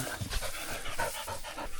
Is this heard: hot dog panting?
yes